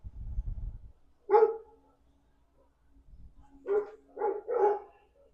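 A dog barks in a few short, sharp bursts, one single bark and then a quick cluster of three, fairly close and loud in an otherwise quiet indoor space, with a low rumble before the first bark.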